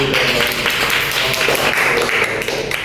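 An audience at an indoor class gathering claps together in a steady, dense patter. The clapping holds for several seconds with faint voices underneath.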